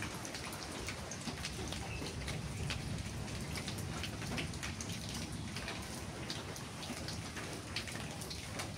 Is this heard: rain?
yes